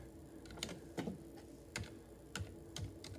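Keys on a Ducky One 2 Mini keyboard with Cherry MX Silent Red switches pressed one at a time, about seven soft, muted clacks at an uneven pace, close and quiet, with no talking.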